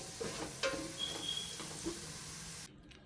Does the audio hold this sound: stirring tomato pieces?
yes